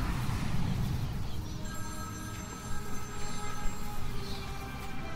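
A telephone rings in the Batman Arkham City video game, its tone sounding steadily over a game soundtrack and low ambient rumble for several seconds.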